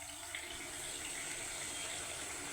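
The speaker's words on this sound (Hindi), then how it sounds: "कटोरी में थोड़ा सा पानी लूँगी मैं" Water runs steadily from a tap or pitcher into a small bowl in a home kitchen during cooking, a continuous close gushing pour with no talk over it.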